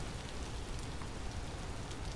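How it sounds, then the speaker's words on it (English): Rain falls in the survival video game Vintage Story, a steady, even hiss of drops close around the listener, moderately loud and unbroken, with no talking. "let's put our torches away so the rain doesn't put them out."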